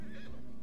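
A horse neighs in Red Dead Online, a single short, loud, close whinny with no talk over it.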